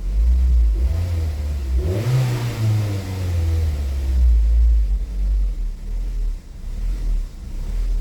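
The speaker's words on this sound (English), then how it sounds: "let me give it a little bit of gas, see what happens" Car engine being revved as gas is applied during work on an intake vacuum leak, a loud, close low rumble that swells into a rising rev and then settles back toward idle.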